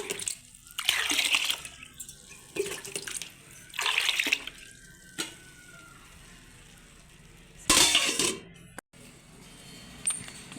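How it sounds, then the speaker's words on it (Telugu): Rice-washing water is poured into a kitchen sink in several separate splashing bursts, close by, with quieter gaps and small clatters between pours. "అందుకని సింక్లో వంపేస్తున్నాను మరి ఇది మూడు సార్లు కడిగేసానండి"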